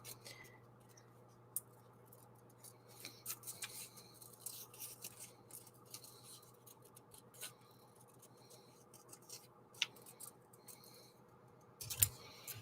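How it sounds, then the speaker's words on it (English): Large scissors snipping through craft material at a table, quiet intermittent cuts and small rustles spread across a hushed stretch, with a steady low hum beneath and a sharper clack near the end. "we'll just keep on with the big scissors."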